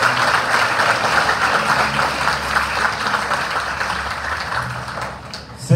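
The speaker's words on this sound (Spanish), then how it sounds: "Un gran aplauso para ti" Congregation in the parish church applauds during a priestly and diaconal ordination, a loud, sustained round of clapping that holds steady before tapering slightly near the end.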